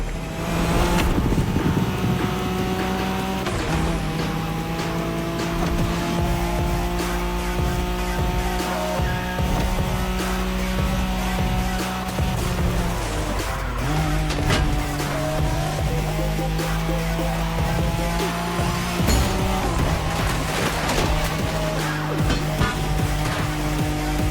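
A Nissan Skyline races in a driving game, its engine roaring loud and steady while the pitch climbs through the gears and drops at each shift, with tire and road noise running throughout.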